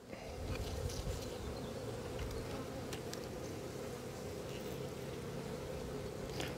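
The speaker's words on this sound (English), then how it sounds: "there's a lot of bees in the box" Honeybees buzz densely around an open hive in an orchard apiary, a continuous droning hum close to the listener, with faint handling noises and some low talk beneath.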